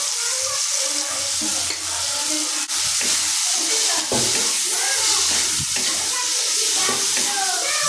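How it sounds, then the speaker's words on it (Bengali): Ground cumin, coriander and a little chilli powder stirred and frying in oil in a pan, a steady close sizzle with scraping stir strokes throughout, no talk. "এর মধ্যে দিচ্ছি জিরের গুঁড়া, ধনিয়া গুঁড়া, আর দিয়ে দেবো হালকা একটু লঙ্কা গুঁড়া।"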